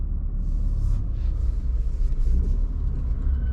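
A Dacia Sandero Stepway with a 1-liter three-cylinder turbo petrol engine pulls away at night, its low engine rumble and road noise steady and close from inside the cabin.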